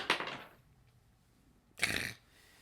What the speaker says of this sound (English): I'm choking on a burp.